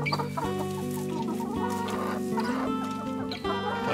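A flock of Zielononóżka (green-legged) hens and roosters wearing coloured leg rings clucks continuously nearby, with overlapping calls and soft fowl chatter filling the background with no one speaking.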